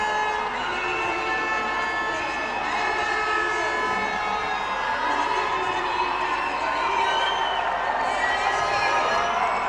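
A crowd at a junior world championship bout cheers and shouts continuously as a competitor takes to the mat, a sustained roar of voices with no break.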